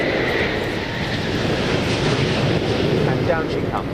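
A Concorde landing in Microsoft Flight Simulator at London Heathrow (EGLL), heard from the cabin as a continuous loud roar and rumble of engines and airflow throughout touchdown.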